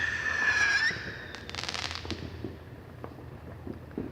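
Fireworks go off outdoors: a whistling rocket rises, then a crackling burst, then scattered pops and bangs fading into background noise, moderately loud and without voices.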